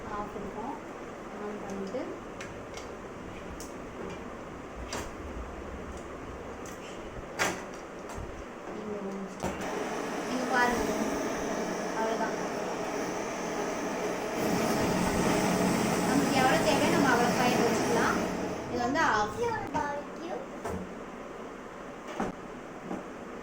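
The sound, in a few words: butane gas fire gun torch flame after switching on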